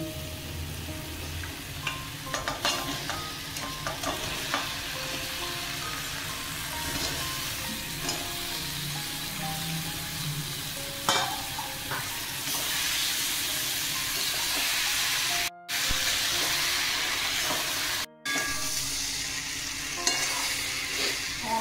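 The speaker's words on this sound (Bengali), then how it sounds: "আমি সবজি ভেজে নিয়ে নিই, এতেই দিয়ে কষিয়ে জল দেবো।" Flat beans, potato and eggplant fry in a spice paste for a boal fish curry, a steady loud sizzle with repeated stirring scrapes over about twenty seconds and two brief dropouts, no speech.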